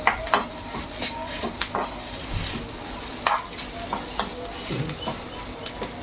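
Betel leaves sizzle and crackle in a hot pan, with scattered clinks and scrapes of a stirring utensil against the pan throughout.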